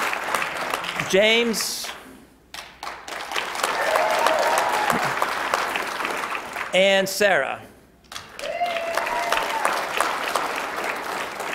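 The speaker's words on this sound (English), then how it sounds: "And I can tell by your applause" Audience at a drug court commencement ceremony applauding team members as they are named: sustained clapping from a crowd, broken twice by a short name called out by a speaker, then continuing.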